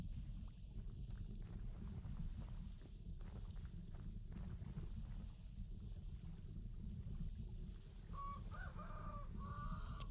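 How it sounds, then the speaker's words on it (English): Chickens in the game Vintage Story give a few soft clucks late in the stretch, faint over a steady low rumbling ambience with light scattered steps and taps. "Chickens are still good, at least."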